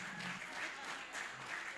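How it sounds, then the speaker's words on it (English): Faint, distant applause from the audience at a senior high school financial literacy competition, a steady patter of many hands at low level throughout. "One more round of applause, please, for their resilience."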